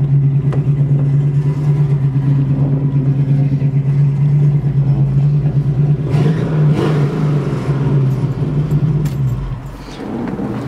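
A 1972 Ford Mustang with a 302 V8 and automatic transmission idles with a steady, loud, even rumble up close. Scattered clicks and rattles sit over the engine, which eases lower and quieter near the end.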